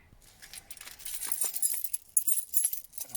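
Car keys jangle and clink close by in a short burst of bright metallic rattling, the shaking picking up and continuing through the moment.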